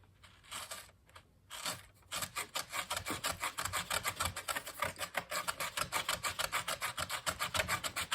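Model railroad ballast being smoothed with a simple hand tool, a steady rhythmic gritty rasping and rubbing that repeats quickly and evenly after a brief pause, close and fairly loud.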